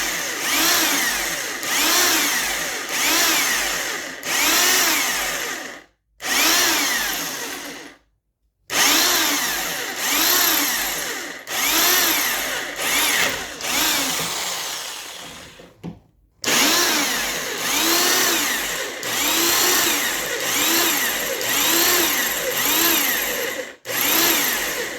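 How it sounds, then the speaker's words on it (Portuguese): Electric drill boring a hole through a steel knife blank, loud steady whine in repeated bursts of a few seconds each, separated by brief pauses, with no talking. "Você viu que foi rapidinho para furar"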